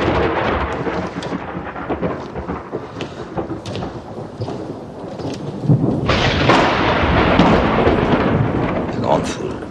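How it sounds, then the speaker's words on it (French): Heavy thunderstorm with deep rolling thunder and steady rain, a continuous loud rumble that swells and grows denser past the midpoint, with no other voices over it. "Un air lourd. C'est l'orage."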